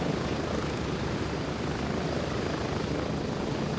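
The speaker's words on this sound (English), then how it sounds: "Ah, yeah, these long helicopter rides." A helicopter ride in the video game Gray Zone Warfare: a steady, loud, dense rotor and engine drone, unbroken from start to finish, heard from inside the aircraft.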